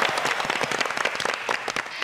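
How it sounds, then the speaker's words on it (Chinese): A studio audience on a quiz show claps in a dense, steady burst of applause that lasts about two seconds, heard fairly close. "掌声鼓励，漂亮。"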